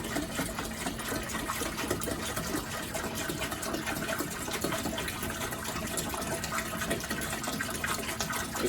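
Water pours steadily into a brewing pot for a New England IPA homebrew, a continuous close-up splashing and gurgling stream that holds even in level without pause.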